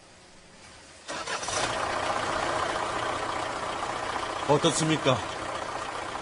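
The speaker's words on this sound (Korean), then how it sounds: "여러분들이 만든 봉고 코치의 엔진 소리입니다." A Kia Bongo Coach engine turns over and catches, then settles into a steady, rumbling idle with a brief revving flutter midway; a voice speaks briefly over the running engine.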